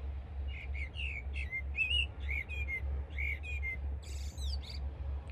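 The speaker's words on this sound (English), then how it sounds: "And to wake up with this bird singing." Early-morning birdsong near Malaga: a single bird sings short, clear whistled phrases and chirps in quick succession, fairly close but soft, over a low steady hum.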